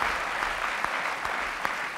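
A TV studio audience claps on a French talk-show set, a steady, dense wash of applause with no voices above it, holding at an even level from start to finish.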